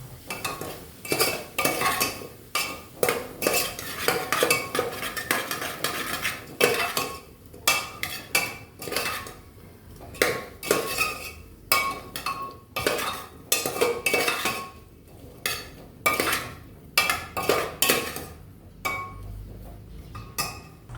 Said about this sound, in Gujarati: આ ખીચડીમાં 1 ચમચી જેટલું મીઠું નાખી શકીએ છીએ આપણે। ત્યારબાદ તેને બરાબર મિક્સ કરી લેવું।